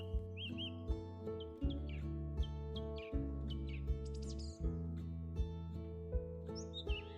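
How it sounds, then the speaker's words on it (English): Migratory birds sing in the wild Siberian spring, with bright chirps and whistled phrases scattered throughout, layered over a steady low drone without any talk. "Migratory birds fill the sky,"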